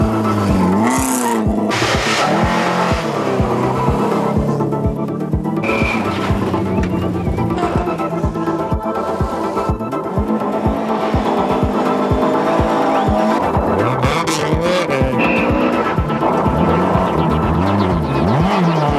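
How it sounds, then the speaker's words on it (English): Group A Ford Escort Cosworth rally car at full throttle on a closed County Limerick stage, engine rising and falling through gear changes as it heads down toward a hairpin, loud and close, with a brief tyre squeal and no talk. "That's Stephen Finlay in the Group A Esquad Cosworth, the rally leader, heading down towards the hairpin."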